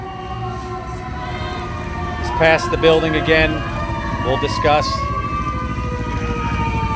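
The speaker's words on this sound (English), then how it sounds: "And I believe this is the ladder you're hearing." A fire department ladder truck's siren wails as it arrives at an emergency scene, sustained and fairly loud with rising and falling tones, while someone talks over it throughout.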